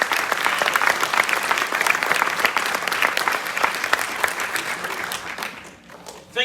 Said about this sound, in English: Give these seniors a big round of applause.